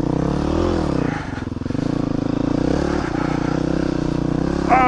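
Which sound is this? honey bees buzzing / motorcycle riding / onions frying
motorcycle riding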